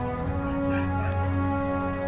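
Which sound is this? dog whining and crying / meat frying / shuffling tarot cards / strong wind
dog whining and crying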